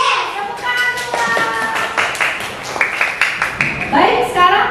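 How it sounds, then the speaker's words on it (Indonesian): Children in an Indonesian classroom clap in a short burst of rhythmic, sharp claps, close and fairly loud, with children's voices and chatter mixed in. "Tepuk tangan semua."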